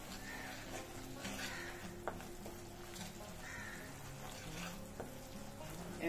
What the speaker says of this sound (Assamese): মছলাখিনি আৰু অলপ ভালদৰে ভাজি লম